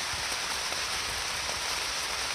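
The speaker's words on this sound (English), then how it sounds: "see if it stops raining" Rain comes down steadily on an Appalachian Trail day, a dense close patter and hiss of drops hitting a surface, even and unbroken with no voices.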